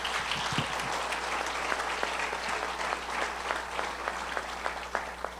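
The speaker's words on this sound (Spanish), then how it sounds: "¿Por qué no le damos un fuerte aplauso a nuestros exponentes?" An audience at a church family forum gives the panel speakers a strong round of applause, continuous many-handed clapping at an even level throughout, with a low steady hum of the hall beneath it.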